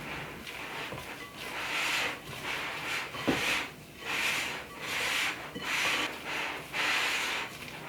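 Gluten-free chocolate batter with flour and cocoa powder is mixed in a bowl, making repeated soft rubbing and scraping strokes in an even rhythm, close and fairly quiet.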